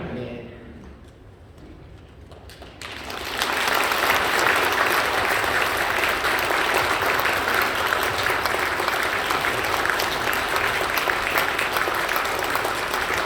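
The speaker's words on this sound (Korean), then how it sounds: "우리 감사하는 마음으로 여러분들 박수해 주셨으면 좋겠고요" Church congregation bursts into loud, dense applause after a quiet start and keeps clapping steadily and close, filling the room without a break.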